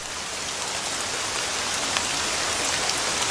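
Steady, dense rain pouring down outdoors in an animated scene, a constant broadband hiss with no pauses and no voices.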